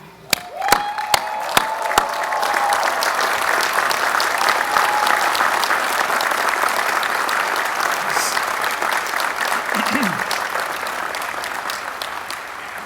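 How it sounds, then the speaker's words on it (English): Graduation audience at Carnegie Mellon's 118th commencement applauding the graduates' support team: a large hall's sustained, dense clapping that swells and holds steady for over twelve seconds, with a few sharp claps at the start and faint crowd murmur. "join me in thanking your support team with a round of applause"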